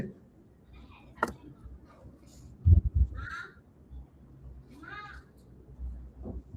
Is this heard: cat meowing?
yes